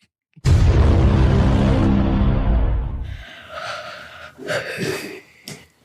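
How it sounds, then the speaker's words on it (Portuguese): A person gives a long, loud open-mouthed yawn close to the microphone, a breathy exhale lasting several seconds, followed by softer rustling and mouth sounds. "Coisa mal educada, você bocejando"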